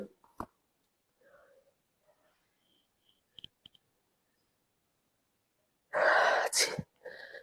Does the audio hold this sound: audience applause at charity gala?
no